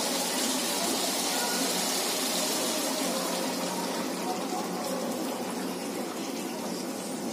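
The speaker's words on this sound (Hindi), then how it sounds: "अब हम इसमें पानी डालेंगे।" Water poured into simmering misal gravy gives a constant, dense rushing splash that holds steady throughout, close and without talk.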